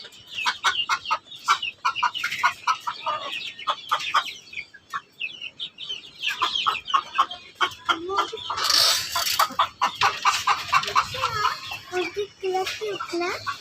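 Hens in a backyard coop cluck and squawk in repeated bursts close by, with a child and an adult talking over and between the calls.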